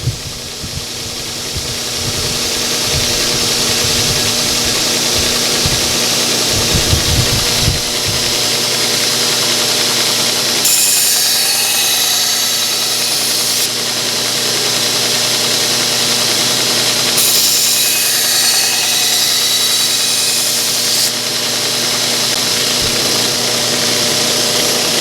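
A belt grinder fitted with a 100 grit belt runs with a steady, loud whine while an ulu knife is sharpened on it. Harsher, brighter grinding bursts come as the blade meets the belt for several seconds at a time, twice.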